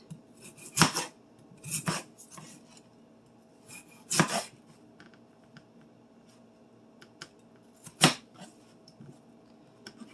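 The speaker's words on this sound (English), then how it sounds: "Let's go ahead and cube the potatoes now that they are" Peeled, rinsed russet potatoes are cubed with a knife on a cutting board, giving sharp, sparse chopping knocks at irregular intervals with quiet handling noise between them.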